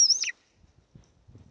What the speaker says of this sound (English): Oh, listen to this little bird vocalizing now.